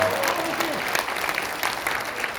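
An indoor audience at a Korean political gathering breaks into steady, dense applause, loud and close throughout, with a faint voice briefly under the clapping.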